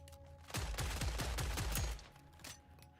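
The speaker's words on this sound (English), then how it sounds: "I deliberately miss every single shot" Gunshots in the video game Killing Floor 3, a rapid string of about eight sharp booming shots in steady rhythm, then a couple of fainter isolated shots.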